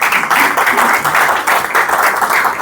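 A church congregation claps together for the Lord in a dense, lively burst of applause that stays steady and close throughout.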